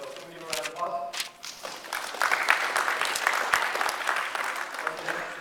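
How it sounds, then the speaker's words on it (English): Meeting audience applauding in a room, a steady wash of many hands clapping that swells and holds for several seconds, fairly close and lively. "So can we give a round of applause?"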